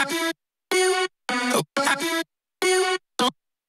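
Dry auto-tuned vocal chops with reverb switched off, six short bright syllables separated by clean silent gaps, close and upfront with no tail between hits.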